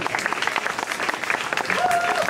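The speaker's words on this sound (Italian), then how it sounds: "ancora un applauso" Concert crowd applause for a band at a tribute show, fairly faint and lively, with a voice talking over the clapping and a short sustained tone near the end.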